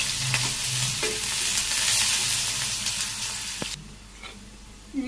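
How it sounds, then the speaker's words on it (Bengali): Sliced onions with spices frying in a pan, a steady close sizzle with scraping stirs of a spatula, in a simple village kitchen in Bangladesh; the hiss drops off sharply near the end. "ভালো করে আমি ভাজি করি, মশলা দিয়ে পেঁয়াজটা বাদামি দিয়ে ভালো দিলাম।"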